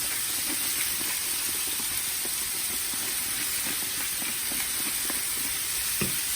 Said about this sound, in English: just going to add in the chicken, some seasonings, and cook it for around probably 5 minutes